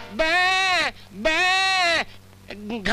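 A voice imitates a goat with two long, wavering nasal bleats followed by a shorter broken one, loud and close.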